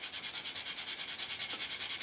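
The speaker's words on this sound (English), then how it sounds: "I'm just going to use a coarse sanding stick" Quick, rhythmic scratchy strokes of a coarse sanding stick rubbing back and forth on a model Lightning, close and fairly quiet.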